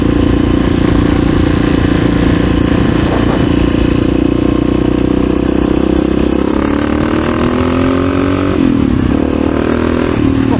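A 1986 Honda HRC XR628R dirt bike with dual carburetors revs hard through first and second gear, its loud, close, throaty single-cylinder engine rising in pitch, dropping at a shift, then climbing again.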